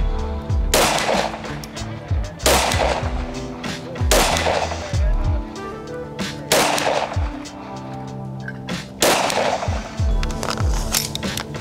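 Sharp, loud gunshots from a first-time shooter crack out at close range, five main reports spaced roughly two seconds apart, with fainter clicks and handling noise between them.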